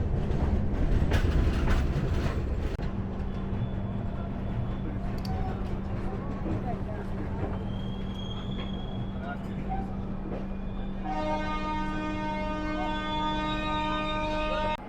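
Bihar Sampark Kranti express train rolling on rails, a steady low rumble with a continuous hum and tonal whine that rises toward the end, dense and fairly loud throughout.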